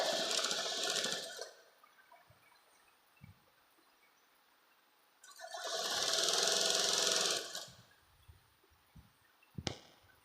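A sewing machine stitches salwar fabric in two bursts, one short and one longer, with quiet pauses between them and faint handling knocks.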